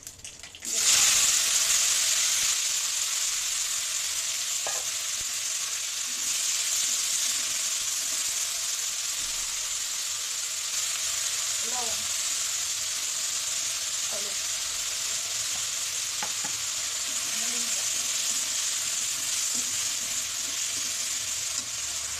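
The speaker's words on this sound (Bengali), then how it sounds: "ফোড়ন দেবো কালো জিরা কালো জিরা দেখা আলু পেঁয়াজ মরিচ" Black cumin tempering with potato, onion and chili frying in hot oil for a spinach and mola fish chochchori, a steady broad sizzle throughout with occasional spoon stirs and scrapes.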